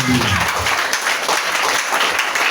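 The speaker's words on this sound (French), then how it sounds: "Acclamons Jésus." A church congregation applauds loudly and continuously, a dense wash of clapping from many hands with some voices mixed in, sustained throughout.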